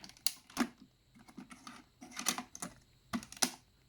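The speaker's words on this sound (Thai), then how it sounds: "เริ่มต้น ใส่ฐาน ใส่แผ่นนะฮะ" A CD being loaded into a Sony Walkman D-E500 portable player: a few quiet, close plastic clicks and taps, with a snap of the lid closing, spread over a few seconds.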